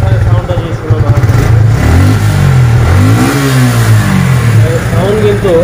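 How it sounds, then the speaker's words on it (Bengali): A 2023 Suzuki Gixxer Monotone 155cc motorcycle engine revs up and down nearby, its pitch rising and falling in loud swells while someone talks over it. "ইঞ্জিন সাউন্ড যদি শোনানো হয়, ইঞ্জিন সাউন্ডও কিন্তু একদমই নতুনত্ব রয়েছে।"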